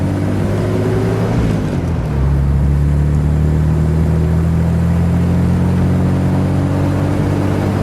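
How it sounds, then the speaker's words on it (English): A 1954 Kaiser Darrin's straight-six engine drones steadily through dual exhausts, the pitch dropping after a shift into second gear and then holding a smooth, even hum while driving. "The dual exhaust was a little bit of a surprise for the straight six."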